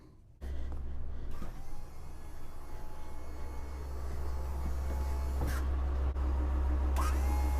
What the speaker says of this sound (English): I'm going to turn my levelers on